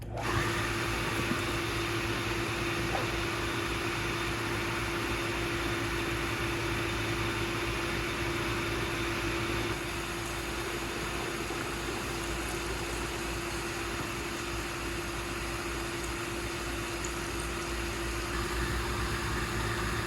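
A continuous mechanical hum with a steady whirring drone from a 1 HP VEVOR sand filter pool pump running in filtration mode, holding an even level the whole time with no voices.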